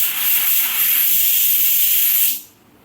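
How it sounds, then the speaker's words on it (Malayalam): Pressure cooker venting at home, a loud, steady hiss of escaping steam that holds for about two seconds and then cuts off sharply, leaving quiet. "പുറകിൽ കുക്കറിൻ്റെ ശബ്ദമായിരുന്നു"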